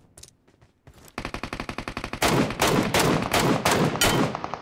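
Rapid automatic gunfire in the battle royale game PUBG Mobile, short bursts giving way to loud, sustained volleys of repeated shots, with no talk over them.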